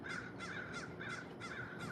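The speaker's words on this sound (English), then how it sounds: "That is a crow." A crow caws outdoors in the early morning, four harsh rhythmic calls in a steady series, moderately distant over a faint background hiss.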